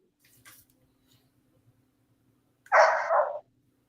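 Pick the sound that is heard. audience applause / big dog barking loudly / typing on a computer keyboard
big dog barking loudly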